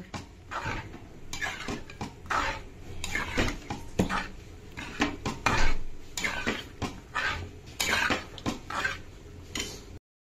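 Chicken curry with dal gets mixed in a pot, close and fairly loud, with continuous scraping, knocking and clattering of a utensil against the pot walls in quick uneven strokes, and no voices.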